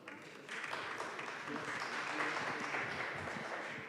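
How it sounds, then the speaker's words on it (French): Audience applause rising after about half a second and holding steady, a broad wash of clapping welcoming a panel at a French conference on investment, heard fairly loud in a hall. "Sous vos applaudissements"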